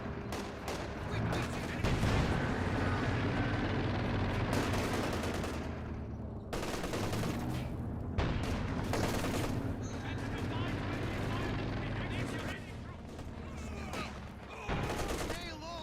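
Dense gunfire and grenade blasts from a Company of Heroes 2 World War II battle, with sustained rattling bursts and heavy thuds repeating throughout, loud and close, under a commentator's talk.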